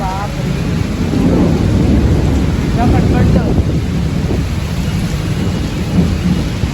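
Heavy monsoon rain pours steadily with deep rumbling thunder rolling throughout, loud and close, in Malvan, heard from inside a vehicle, with faint voices now and then beneath the downpour.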